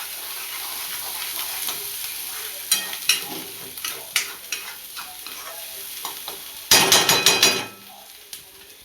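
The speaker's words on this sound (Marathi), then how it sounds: "त्याला 2-3 मिनटं मस्त तेलामध्ये असं फ्राय होऊ द्यायचं आपल्याला छान असं." Alu vadi (colocasia leaf rolls) fry in hot oil with a quiet, constant sizzle, punctuated by distinct spoon knocks against the pan and a louder clattering burst of stirring toward the end.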